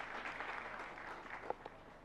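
An audience at a Jain religious gathering applauds, a brief burst of dense, even clapping from many hands that holds steady throughout, heard fairly close.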